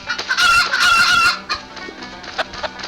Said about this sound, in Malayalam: ഞാൻ എന്റെ കൂട്ടി കൊണ്ട് കോഴി ഇട്ടു